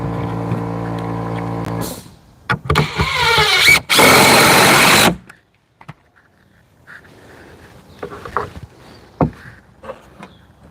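A power driver sinking screws to hold a cedar deck gate in place, heard as a couple of loud, close whirring bursts, the longest about a second, amid handling clatter, followed by quieter knocks and shuffling outdoors with no talk.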